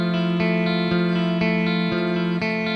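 Intro sample of a song, a looping guitar figure with repeated plucked notes over a sustained low tone, warm and effected with chorus and reverb, steady and alone without talk.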